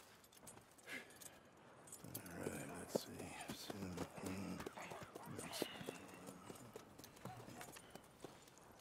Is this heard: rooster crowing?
no